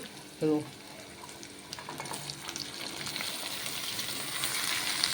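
Capsicum goes into a hot pan and is stirred for a sesame-powder capsicum curry, with a brief voice early on and then a close, steady frying hiss that grows louder as it is mixed.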